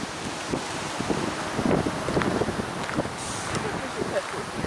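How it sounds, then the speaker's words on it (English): Steady gusty wind buffets the microphone outdoors at a crowded fairground swap meet, with crowd chatter and voices mixed underneath throughout. "It is windy"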